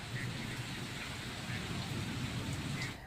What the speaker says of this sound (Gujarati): વીજળીના કડાકા ભડાકા સાથે વરસાદ ખાબક્યો હતો